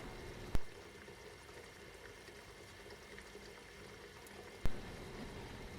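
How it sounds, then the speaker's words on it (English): Steady bubbling rumble of water at a boil in a pan on a Wolf induction cooktop, continuous and moderately close, with two sharp clicks standing out; no talking. "we're starting to get that nice good boil"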